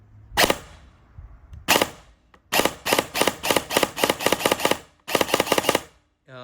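An airsoft gun with a HAL MOSFET trigger fires loud, close, crisp shots: two single shots, then a rapid burst of about nine, then a short burst of four.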